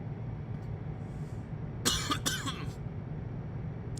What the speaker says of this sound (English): I'm dying from that last cough